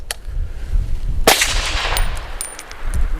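A suppressed 7.62x39 shot from a 7.5-inch-barrel AR pistol strikes IIIA body armor with a sharp, loud metallic clang that rings briefly, followed by fainter ringing clinks.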